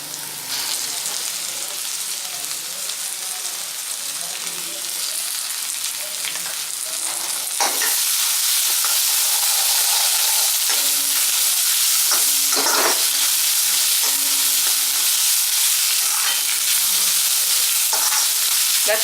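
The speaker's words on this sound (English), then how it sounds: "Now let's add in ginger garlic paste." Ginger garlic paste frying and being stirred in a pan for a brinjal curry, a loud continuous sizzle that swells sharply after a quieter start, with scraping stirs breaking through now and then, close by.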